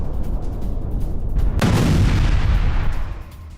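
An explosion near the Sedot Micha base in Israel: a heavy boom bursts in over a rumbling background, followed by a sustained roar that lingers for a couple of seconds before fading.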